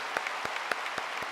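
A church congregation gives a short burst of dense applause in blessing for the pastor's sons and grandchildren, with a few louder individual claps standing out from the steady patter.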